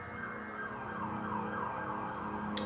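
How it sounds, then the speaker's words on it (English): Emergency sirens wail steadily in the distance over a dense rumbling background, sustained and fairly faint, with a brief sharp click near the end and no speech. "they got the fucking sirens going crazy"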